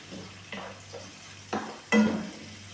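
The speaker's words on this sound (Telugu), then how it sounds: "ఇలా వేసుకొని ఇట్లా బాగా కొంచెం రెడ్ కలర్ వచ్చేదాకా మనం అయితే ఫ్రై చేసుకోవాలి" Carrot pieces frying in a pan, heard as a soft sizzle with four or five short scraping stirs, the last one the loudest.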